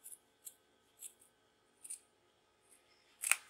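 Scissors trimming excess fabric from the back of a Roman blind: a series of short, crisp snips spaced about half a second apart, close and quiet, ending with one louder cut, with no talking.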